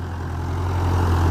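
A Massey Ferguson MF440 tractor pushing earth with a front blade works at a steady, heavy diesel drone, a low throbbing hum that slowly grows louder over a second and a half.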